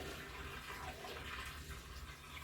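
About a gallon of water pours steadily into a pot for a batch of apricot moonshine, giving a continuous splashing rush with no pauses and no voices.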